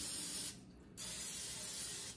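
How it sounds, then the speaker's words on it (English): Cooking spray hisses into a muffin tin in two bursts, a short one and then a longer one after a brief gap, close and steady with no voices. "I know it's a lot of spray"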